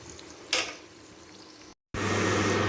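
A Mughlai paratha, a Kolkata street food, fries in a pan with a steady, close oil sizzle that briefly swells early on, cuts out for a moment, then returns louder and constant.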